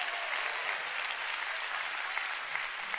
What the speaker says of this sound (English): Come on, church, give the Lord a big clap.